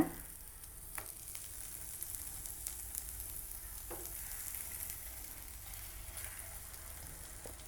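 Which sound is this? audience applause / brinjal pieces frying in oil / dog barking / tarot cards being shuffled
brinjal pieces frying in oil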